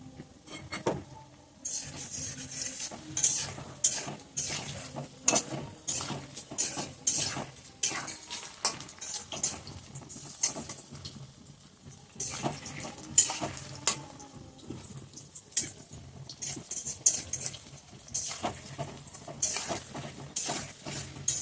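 Pakoras frying in hot oil in a home kitchen, with a steady sizzle under repeated clinks and scrapes of a metal utensil stirring in the pan, close and fairly loud with no voices.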